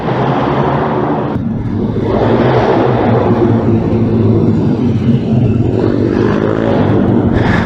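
A pit bike engine at the RaceLand kart arena drones loud and close with a steady, buzzing roar, its revs rising and falling slightly, with no talk over it.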